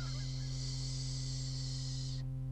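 A goose honks in a drawn-out call over a constant low hum, and the call breaks off abruptly near the end.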